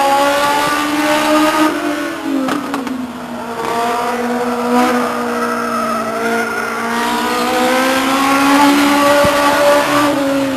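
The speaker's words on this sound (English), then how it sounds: "On the track in the number one car from Pine Mountain Lake" A Legends race car laps Stockton 99 Speedway alone, its engine a loud, steady drone that climbs and falls in pitch through the corners, with tires squealing now and then.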